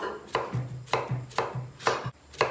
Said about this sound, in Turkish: İşimize soğanımızı doğrayarak başlayacağız.